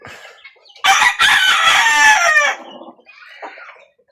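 A young rooster (stag) crows loudly and close, a long harmonic call, followed by softer clucking and calls from hens.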